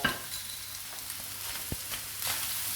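Pork stir-fried with oyster sauce, ginger and spring onion, with a faint, steady sizzle and a few soft scraping strokes of a utensil through the pan.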